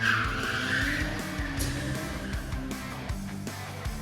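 An E90 drift car driven by a professional drifter skids with loud, sustained tire squeal over a revving engine, the squeal wavering continuously throughout at close range.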